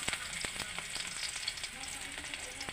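Crab frying in a pan gives a close, steady sizzle broken by a few sharp crackles and stirring scrapes, at moderate loudness with no talking.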